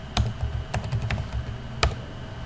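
Typing on a computer keyboard while entering commands in Maple software, a few quick scattered clicks and sharper isolated key strikes, close and clear with no talk.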